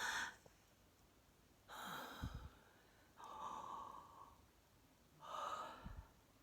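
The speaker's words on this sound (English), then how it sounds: "I think I did about 4 inhales and exhales there with different breeds of different qualities of hope" A clown-workshop performer breathes audibly through about four slow inhales and exhales, each a soft, airy rush with a few gasping, snort-like catches, separated by quiet pauses, close and faint.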